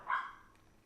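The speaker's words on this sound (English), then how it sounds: "Sorry if you guys hear my dog barking." A single short dog bark heard indoors, a quick yip-like bark fading within a fraction of a second, moderately close and alone.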